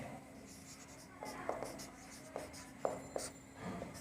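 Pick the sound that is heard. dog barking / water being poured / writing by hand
writing by hand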